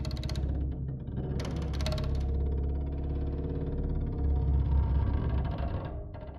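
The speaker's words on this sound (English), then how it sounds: "we're using this sound called Cellosaurus snoring" A Cellosaurus Snoring synth patch from Omnisphere, a Diego Stocco psychoacoustic sound source, plays a grinding, creaky drone with a rough mechanical texture, sustained and steady for several seconds with a few brighter bursts layered on top.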